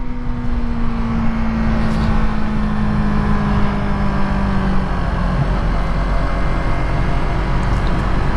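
A 2020 Yamaha MT-03 motorcycle engine drones steadily and loudly on the move, its tone shifting slightly as the throttle changes, with heavy wind rush throughout and no talking.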